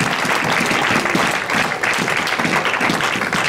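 A church congregation claps its hands in praise, a dense, steady wash of applause that fills the room at full volume and never lets up.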